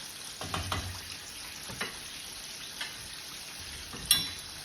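Soft, steady sizzling of fish frying in a pan, with a few faint clinks and taps now and then against the crackle.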